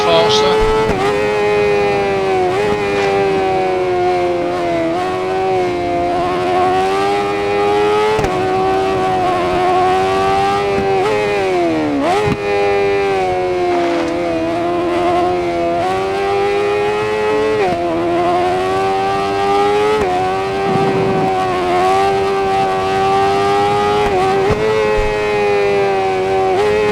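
Motorcycles race in the Ride 4 video game, a continuous loud, high engine whine that rises and falls as the bikes rev and shift. A voice talks at times beneath the engines.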